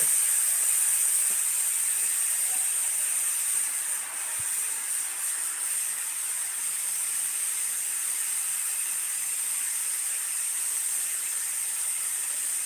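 A loud, continuous high-pitched hiss of steam escapes a pressure cooker whistle, holding steady without a break for the whole stretch.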